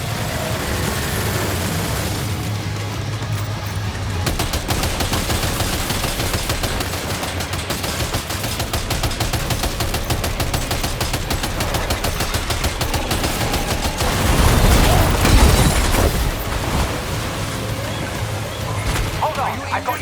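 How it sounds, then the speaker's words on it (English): Sustained automatic gunfire in the video game Death Stranding 2, a dense rapid rattle of shots running nearly continuously and loud, with a low engine-like rumble underneath and a heavier burst swelling near the end. "Opening fire now."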